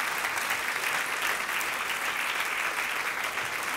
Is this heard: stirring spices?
no